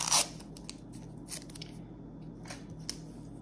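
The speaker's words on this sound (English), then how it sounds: "we're gonna use our masking tape" Masking tape being pulled and torn over a drawing for a wire sculpture art project: a sharp rip at the start, followed by a few softer crinkles and taps against a quiet room, with no talk.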